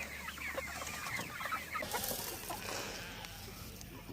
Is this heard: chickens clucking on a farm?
yes